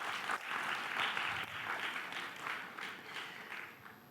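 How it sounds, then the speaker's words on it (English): Warm round of applause from an audience at an innovation conference, many hands clapping in a dense, rolling wash that swells early and eases slightly toward the end, heard from a little distance. "Please, everybody, give Abhay a really warm round of applause."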